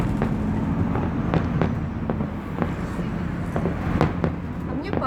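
Fireworks salute over Kazan for City Day and Republic Day, with repeated sharp bangs and crackling bursts at an irregular rhythm over a steady crowd rumble, with voices murmuring throughout.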